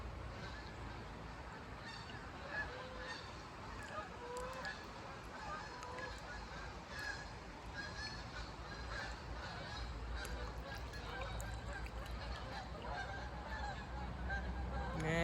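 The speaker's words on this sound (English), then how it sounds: "there go the geese" Geese honking in a steady chorus on the river near some rapids, with rushing water and wind noise underneath throughout.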